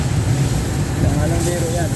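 Busy Vietnamese street traffic full of motorbikes gives a dense, constant engine rumble close by, while a person talks over it.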